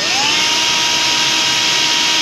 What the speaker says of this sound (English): Beginning drilling now.